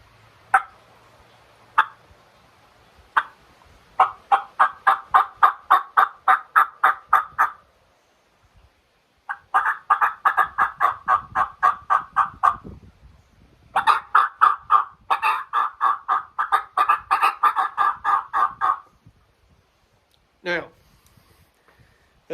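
A hunter's turkey call imitates gobbles, producing loud, close bursts of rapid rattling notes in repeated runs separated by short pauses, with a final squawk-like note near the end.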